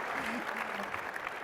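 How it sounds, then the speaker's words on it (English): Applause from a conference keynote audience as a presenter leaves the stage: a dense, even wash of clapping at moderate volume, with faint voices mixed in. "Everybody give Walt a great big applause."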